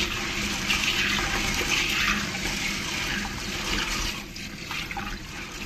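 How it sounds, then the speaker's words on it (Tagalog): Water pours steadily over dried black-eyed peas in a bowl to soak them, a continuous close splashing and gurgling that eases off slightly near the end, with no speech. "Tutubigan natin. Bababad ko muna"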